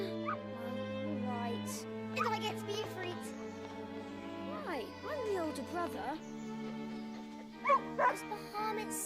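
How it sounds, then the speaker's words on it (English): A little dog in Final Fantasy XVI whimpers and yips in short, high, wavering cries over background music, with a few sharper yelps near the end. "The little dog name is Bahamut"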